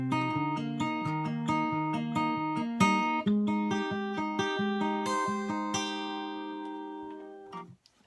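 Fingerpicked acoustic guitar plays a repeating arpeggio pattern over chords for a song, with the bass and upper strings ringing clearly and alone before the last note fades out.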